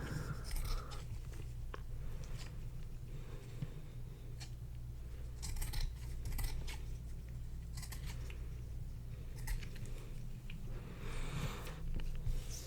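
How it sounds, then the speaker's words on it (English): Scissors trimming the edges of felt pieces for handmade centaur figures, soft close snips and crisp cutting bursts spread through a quiet steady background hum, with no speech. "now we're just gonna trim this down, trim off the edges"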